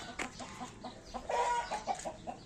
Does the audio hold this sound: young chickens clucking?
yes